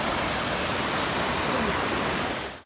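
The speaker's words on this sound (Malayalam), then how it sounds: "ബോണക്കാട് വരുമ്പോൾ ആസ്വദിക്കാൻ പറ്റിയ കിടില വെള്ളച്ചാട്ടം ഈ കാണുന്നത്" A waterfall at Bonakkad roars as a loud, continuous broadband rush that fills the scene, cutting off abruptly at the very end.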